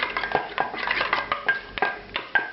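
A spoon stirs a sauce of Angostura bitters and Tabasco in a bowl, giving a series of sharp, close clinks and scrapes against the bowl at an irregular rhythm.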